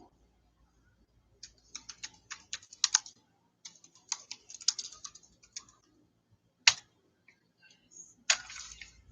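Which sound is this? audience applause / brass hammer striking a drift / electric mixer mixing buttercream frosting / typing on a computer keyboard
typing on a computer keyboard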